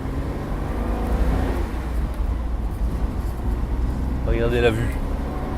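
An Alfa Romeo 2600 Touring accelerates on the road, its engine a steady loud drone with road and wind noise underneath, while someone speaks briefly over it near the end.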